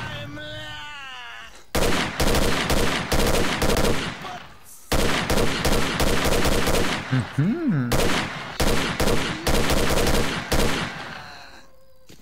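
Sustained weapon fire in S.T.A.L.K.E.R.: Clear Sky, long bursts of rapid close gunshots broken by brief pauses, with a short whooshing swell between bursts; loud and dense throughout.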